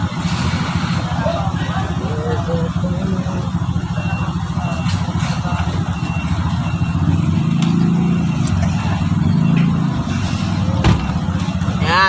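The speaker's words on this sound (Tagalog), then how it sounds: "Traffic." Road traffic crawling along a narrow, congested street as one driver pushes against the flow, a steady close engine rumble that swells slightly toward the end, with faint voices underneath.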